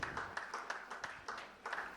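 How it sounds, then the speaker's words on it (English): A conference audience applauding a guest speaker, a faint, thin patter of scattered hand claps heard from a distance. "Please give him a round of applause."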